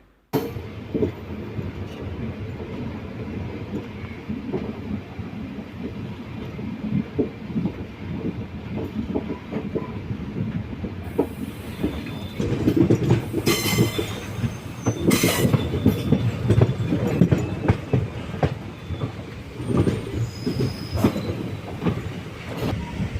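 The Kanniyakumari–Pondicherry Express pulls away and rolls along the rails, a steady rumble building with rhythmic clatter and brief squeals from the wheels, close by and continuous.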